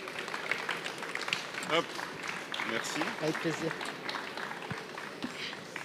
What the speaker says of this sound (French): Et puis on peut les applaudir.